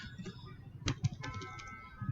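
Quick clicks of typing on a computer keyboard, close and fairly quiet, in a short uneven burst.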